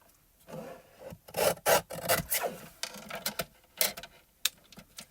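Paper being trimmed by hand for a fishtail banner on a card project, heard as close, irregular rasping cuts and rustles in short bursts with pauses between, with no talking.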